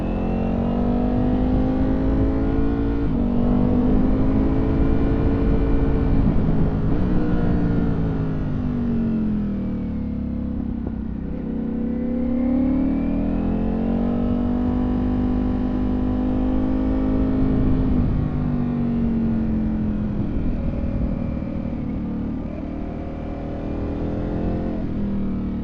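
A car engine drones steadily on the twisting Tail of the Dragon mountain road, its pitch rising and falling as the driver shifts through the gears, loud and continuous for the whole stretch.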